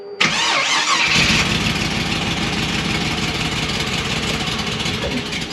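A 1957 Chevrolet V8 with a camshaft package cranks and fires, then holds a loud, lumpy idle with an irregular popping exhaust pulse close by.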